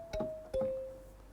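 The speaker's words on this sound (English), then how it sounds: "And this one is your standard kalimba under World African kalimba, and it sounds like this." A standard kalimba patch from Logic Pro's World African kalimba sounds two plucked notes, each a bright tine attack followed by a sustained, slowly fading tone, close and isolated.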